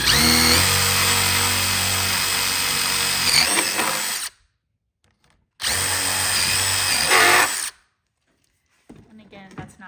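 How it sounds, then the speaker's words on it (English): Power drill boring holes into a wooden fence board for a birdhouse, two loud sustained whirring bursts of about four and two seconds separated by silence, then faint rattling handling noises. "we're gonna drill a couple of more holes here."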